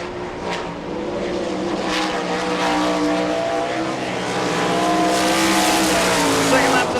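World of Outlaws sprint car on a qualifying lap at Rossburg, Ohio, a steady roaring engine note with shifting pitch as it circles the track, heard from a distance under ongoing commentary.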